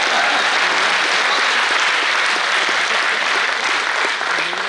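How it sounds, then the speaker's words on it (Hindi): An audience at a trilingual poets' gathering celebrating a municipal corporation's anniversary bursts into dense, continuous applause, many hands clapping loudly and evenly throughout with no pause. "ताली बज रही है।"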